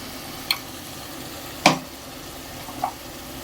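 Ginger garlic paste being stirred into a hot pan, a steady low sizzle with three brief clinks of the spoon against the pan, close and fairly quiet, no talking.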